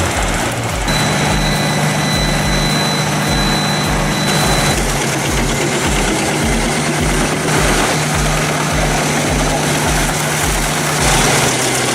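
Petzolato PTH 1400 1000M forestry machine powered by a 1150 HP Caterpillar C27 engine, a loud, steady heavy diesel drone with a regular low pulsing beat and a thin high whine running alongside.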